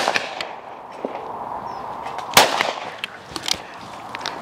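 A 28 gauge shotgun fires at clay targets outdoors, with one sharp, loud report standing out above an open-air background of scattered fainter cracks and knocks.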